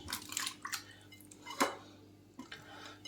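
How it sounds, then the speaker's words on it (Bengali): Mushrooms are rinsed in a basin of fresh water, giving a few splashes, drips and a sharp clink of a bowl, close and fairly quiet, with no talk. "এবার আবার নতুন জলে এটা আবার নতুন জলের মধ্যে দিয়ে দিচ্ছি"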